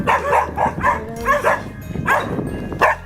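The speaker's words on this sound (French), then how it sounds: "il y a des chiens qui sont pas contents" Several dogs bark and yip in short repeated bursts nearby, loud and agitated, with some whimpering between barks.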